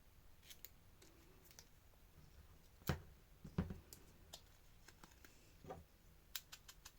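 Scissors snipping paper at a quiet craft table, a few soft scattered cuts with two louder, crisper snips near the middle and light rustling in between.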